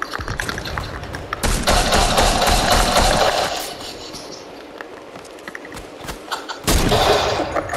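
Video game gunfire crackling in dense bursts, loud volleys that swell, ease off into scattered shots, then return sharply near the end, with little talk over it.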